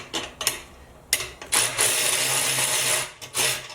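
A Milwaukee Fuel cordless ratchet tightens a nut with a few short mechanical bursts. A sustained, loud ratcheting run of about one and a half seconds follows, then a final short burst.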